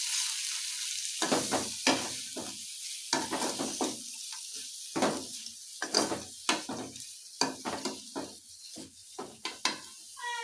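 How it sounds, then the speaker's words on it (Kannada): Tamarind, coriander leaves and grated coconut fry in a pan with a soft sizzle, broken up by repeated scraping stirs in an irregular rhythm, close up and with no talking. "ಒಂದು ಸ್ವಲ್ಪ ಹುಣಸೆ ಹಣ್ಣು, ಒಂದು ಸ್ವಲ್ಪ ಕೊತ್ತಂಬರಿ ಸೊಪ್ಪು, ಹಾಗೆ ಕಾಯಿ ತುರಿ, ಇದಿಷ್ಟನ್ನು ಹಾಕ್ಕೊಂಡು ಚೆನ್ನಾಗಿ ಸ್ವಲ್ಪ ಫ್ರೈ ಮಾಡ್ಕೋಬೇಕು"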